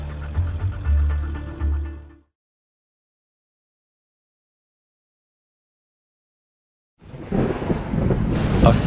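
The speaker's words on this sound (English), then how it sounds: "thunderstorm is an impressive natural spectacle" Thunderstorm with rolling thunder and rain: a loud, deep rumble that fades into a long silence, then a burst of broad rain and storm noise close by, with no voices.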